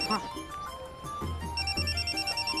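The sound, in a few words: mobile phone ringing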